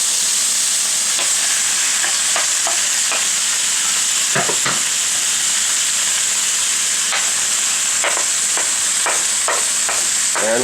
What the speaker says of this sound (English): And now we're going to add all of our peppers